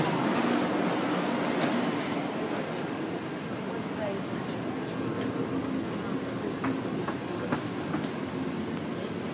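A Taipei Metro C381 train runs steadily with continuous rail rumble and wheel noise, a few faint squeals and clicks, as it travels toward a station on the line to Daan; an announcement voice is heard beneath.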